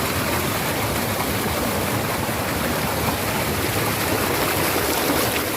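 A stream of clear water at the Taman Batu rock garden in Purwakarta, rushing steadily as a dense, even broadband roar with no pauses, close by and fairly loud.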